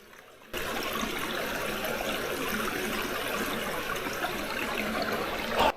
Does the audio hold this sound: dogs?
no